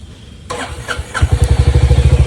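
After a quiet moment, a Royal Enfield Hunter motorcycle cranks on its electric self-starter after sitting about a month, catches and settles into a loud, close, rhythmic thumping idle.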